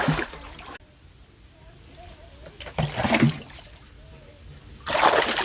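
A large tilapia thrashes and splashes in a home tank with its water drained low, giving loud wet bursts at the start, a splash mid-way and another at the end, with quiet trickling between.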